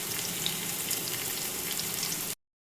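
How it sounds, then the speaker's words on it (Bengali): Bitter gourd fries in hot oil with a steady, dense sizzle that crackles close to the pan for about two seconds, then cuts off abruptly to silence. "উচ্ছে ভাজাটা করছি"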